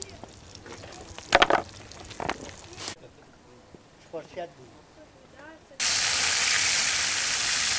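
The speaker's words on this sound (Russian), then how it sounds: "Вот так жарится рыба в походных условиях" Fish sizzles loudly in a hot pan at an outdoor camp, a steady bright hiss that takes over near the end after some earlier clatter and voices.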